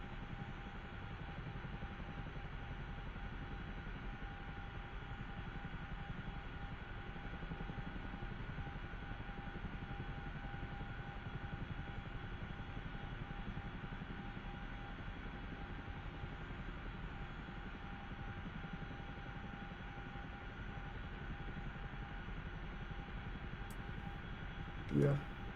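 Steady aircraft engine drone in the DCS flight simulator after the throttle is opened, a loud continuous hum with a fixed tone over broadband rumble, unbroken for the whole stretch, with a short thump near the end.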